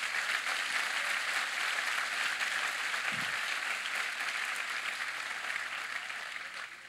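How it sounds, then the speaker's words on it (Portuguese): A church congregation claps hard in a broad, sustained roar of applause that holds steady and then tapers slightly toward the end, with no talking over it. "Se é para ele, aplauda forte"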